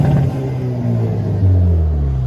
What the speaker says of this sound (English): I'll just give a couple revs here